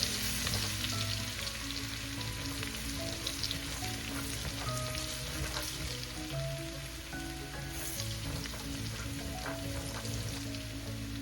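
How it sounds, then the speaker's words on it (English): Garlic sautés in a pan over medium-high heat, a steady close sizzling and crackling with faint stirring scrapes, with no talking. "Start sauteing our aromatics here."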